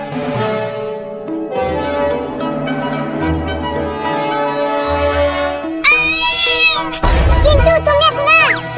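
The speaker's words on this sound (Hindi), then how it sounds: "वो छोटी बिल्ली अभी बोली" A small kitten meows in several high, drawn-out cries, loud and close, at first over a tonal musical background and then with sharper, louder mews toward the end.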